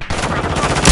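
Gunfire in Call of Duty Modern Warfare 2 multiplayer: a loud, continuous stream of rapid automatic shots, close and dense, swelling louder at the very end.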